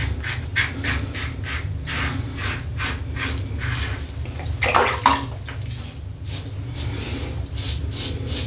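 Tap water runs steadily for a cold rinse after a safety razor shave, with hand splashes and rubbing sounds over the flow, close and continuous.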